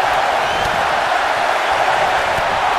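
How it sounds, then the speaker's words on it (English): A wrestling arena crowd at a live match roars in a steady, dense wash of voices, loud and continuous throughout with no distinct counting beats. "Listen to this crowd count the next one in!"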